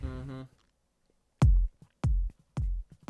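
A sustained tonal note fades out, then three deep, booming kick drum hits follow with gaps between them, punchy and heavy in the low end.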